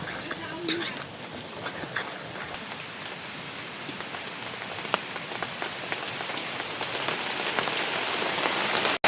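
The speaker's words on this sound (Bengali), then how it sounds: "বৃষ্টিও নেমে গেছে।" Steady rain pours down outdoors at a rural home kitchen, a dense, even hiss that builds slightly louder toward the end, with scattered heavier drops and no talk.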